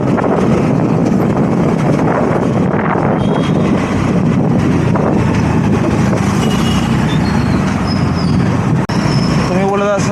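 A vehicle driving along with loud, constant engine rumble and heavy wind rush buffeting the microphone, which stay steady and unbroken throughout.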